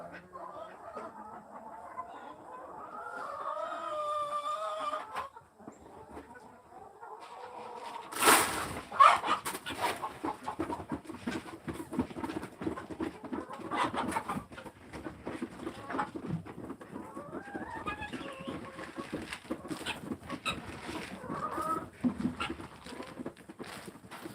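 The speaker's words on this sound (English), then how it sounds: "Hag, that chicken you were worried about laid an egg right where I told you it was gonna" Chickens cluck on and off around a farmyard, close by and fairly loud. Their calls mix with pattering, shuffling and occasional voices of people nearby.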